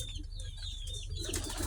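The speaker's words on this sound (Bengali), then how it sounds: "সূর্যমুখী কবুতর বলে এগুলারে আমাদের এদিকে" Surjomukhi pigeons, a local pigeon breed also called Gopalganj big pigeons, coo softly and flap their wings close by in a brief, faint burst over low background rumble.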